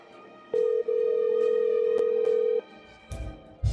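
Telephone call tone heard while dialing a Five Guys restaurant: a steady electronic tone with a brief break, lasting about two seconds, followed by quiet line noise and faint clicks.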